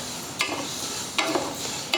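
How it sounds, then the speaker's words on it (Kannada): Sesame seeds dry-roasting in a pan for festival laddus, giving a steady dense crackle with a few sharper pops standing out, close and alone without any talk. "ಈಗ ಚಟಪಟ ಸೌಂಡ್ ಬಂದ್ರೆ ಇವು ಹುರಿದಾವ ಅಂತ ತರ್ತಾರೆ"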